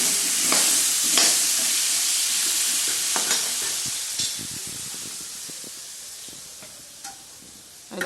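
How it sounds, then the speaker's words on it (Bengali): Potatoes fry in a pan in a home kitchen, a steady broadband sizzle with occasional stirring scrapes and brief bursts, fairly close and continuous with no talking. "তাই আলুগুলো ভেজে নিচ্ছি।"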